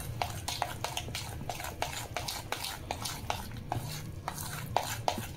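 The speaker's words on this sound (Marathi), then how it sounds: "आता सर्व बाजूने आपल्याला हे फेटून घ्यायचं आहे." Batter being whisked with Eno in a bowl, a steady rhythm of quick scraping strokes with regular clinks of the whisk against the bowl's side, close and fairly quiet, without talk.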